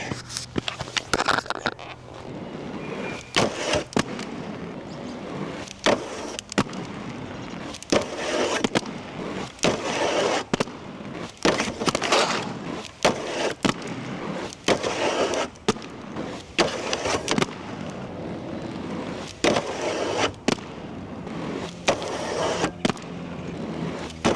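Aggressive inline skates on TNEC V2 frames grinding slowly across a wooden obstacle, the wheels digging into the wood, heard as repeated sharp clacks and rough scraping bursts at close range.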